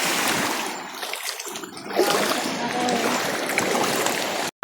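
Sea waves crash and wash close by along a village island shore, a loud churning splash and rush that swells around the middle, then cuts off abruptly at the end.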